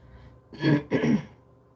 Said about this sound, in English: Excuse me, I can't clear my throat.